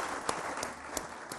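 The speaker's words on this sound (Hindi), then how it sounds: "आप ज़रा तालियां तो बजाइए।" Studio audience clapping during a televised iftar show, a short stretch of continuous hand claps with a few sharper individual claps standing out.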